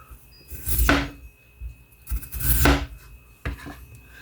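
A knife cuts potatoes into thick rounds for cottage fries on a board, three separate chopping strokes with short pauses between them, close and clear with no talk.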